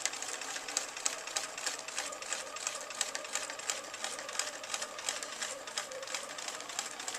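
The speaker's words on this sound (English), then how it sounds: "So I can just continue stitching in the ditch that way" Sewing machine stitching in the ditch on a quilt, a fast steady mechanical whir with rapid needle clatter running continuously at moderate volume.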